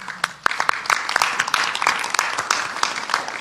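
Audience applause at a Democratic political event, a steady crowd clapping with dense, sharp claps throughout, fairly close and loud with no talk over it.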